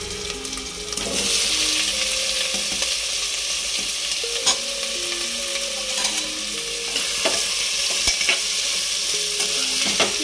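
Pointed gourd and potato curry sizzles steadily in a pan while a spoon stirs and scrapes through it, with a few sharper clinks and a faint tap-water hiss underneath, close and continuous.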